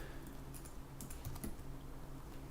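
Rapid, irregular typing on a computer keyboard, with soft clicks and occasional louder key strikes, close by and quiet, with no talking.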